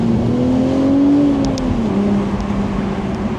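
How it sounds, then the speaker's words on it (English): A BMW Z4 M40i with manual gearbox blips its engine on a downshift, a steady loud drone with a brief rise and fall in pitch, heard close from inside the car. "There's that little rev on the downshift."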